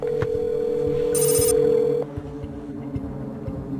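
Telephone ringing through a handset while a call is placed to a maritime services organizer, a steady repeating ring tone, fairly loud and close, then cutting off as the line connects, with no one talking.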